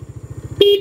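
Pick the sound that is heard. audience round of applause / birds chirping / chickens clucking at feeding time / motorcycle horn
motorcycle horn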